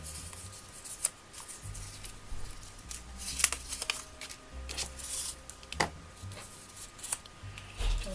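Scissors snipping paper scraps for a vintage-style craft project, a quiet series of crisp, irregular cuts and rustles close by.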